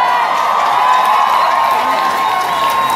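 Large crowd cheering and applauding at the Bohemian Rhapsody light switch-on on Carnaby Street, a loud continuous roar of clapping, shouts and whoops filling the street without a break.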